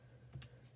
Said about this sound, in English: if I just type that in to show you